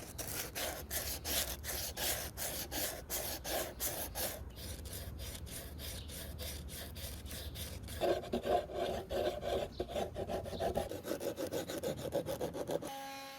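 A hand sander works the edge of a wooden guitar body for a DIY Danelectro Telecaster build, producing a steady, close rasping scrape in quick regular strokes that shift to a rougher, more uneven grind partway through, with no talking.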